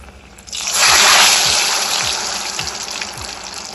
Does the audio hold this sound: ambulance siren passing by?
no